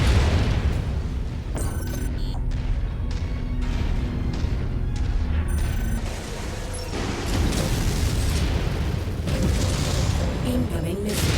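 Missile impacts and explosions in the MechWarrior 5 video game, a steady barrage of dense booming blasts with mechanical rumble running throughout, with synthesized cockpit alert tones at intervals.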